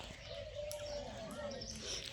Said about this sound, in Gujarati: સવારે કબૂતર આવી ગયા